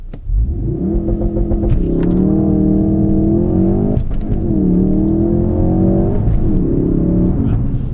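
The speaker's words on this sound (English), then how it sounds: "launch control activated, first gear, full throttle" Full-throttle launch-control acceleration of a 2017 Ford Focus RS 2.3 hot hatch, heard from inside: a loud engine roar climbing in pitch through two gear changes, with sharp shift cracks between pulls.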